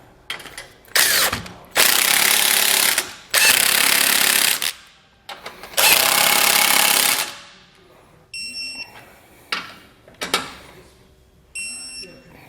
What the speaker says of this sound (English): we're going to tighten and then torque all of our hardware